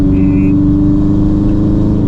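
Turbocharged Subaru BRZ engine pulling hard under acceleration, a loud, steady mid-pitched drone heard from inside the car with a faint whistle near the start.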